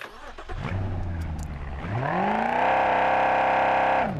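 A trophy truck engine in the BeamNG.drive video game starts and revs up, its tone rising and then holding a steady loud drone, close and alone.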